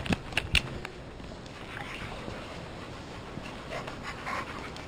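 A dog pants steadily and close by, a soft rapid breathy rhythm running throughout, with a few brief clicks and shuffles near the start.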